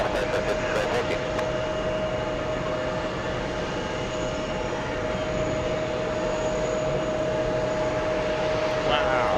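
An American Airlines heavy jet takes off from runway 31 left at JFK, a steady, loud jet engine roar that holds constant throughout with a sustained whine; radio chatter from air traffic control may be faintly present.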